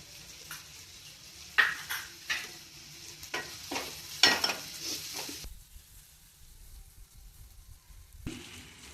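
Homemade garam masala gets stirred into chana masala in a pan, with several scraping spoon strokes and clinks over a soft sizzle, then a quieter pause before one last scrape.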